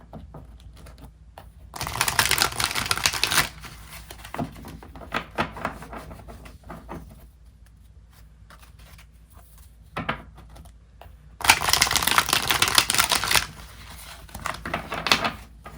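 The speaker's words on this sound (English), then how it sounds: "I'm going to pull a few tarot cards just to get you some more messages." Tarot cards being shuffled by hand, two clear bursts of riffling with softer card handling between them, close and fairly quiet, with no talking.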